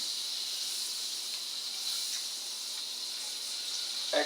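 Fresh ravioli browns in a hot pan, giving a steady, close, even sizzling hiss with no voices, ending in a brief clatter.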